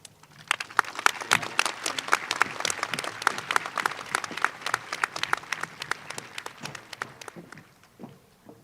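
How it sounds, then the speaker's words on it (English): A high school graduation audience applauds in a dense, lively burst of many clapping hands, holding steady for several seconds before thinning out and fading near the end. "Please join me in another round of applause for our student speakers and performers."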